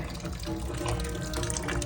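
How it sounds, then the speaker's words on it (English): Sparge water at 170 degrees pours steadily onto the grain bed during beer brewing, a continuous close splashing trickle with no talk over it. "We got 170 degree water sparging on top of there."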